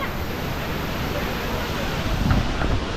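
Umbrella Waterfall at Bhandardara pours in a steady, dense roar of falling water, loud and continuous, close by.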